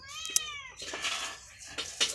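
A cat at a goat farm meows a few times in quick succession, fairly close and clear, followed by soft rustling and shuffling movement.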